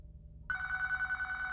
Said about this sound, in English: At that moment, the phone once again started ringing.